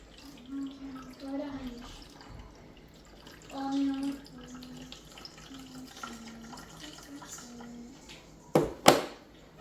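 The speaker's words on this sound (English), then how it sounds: "So we'll pour a bit of water in this" Water poured into a slushie machine, a faint trickle running under quiet talk, ending in a short splashy burst of pouring near the close.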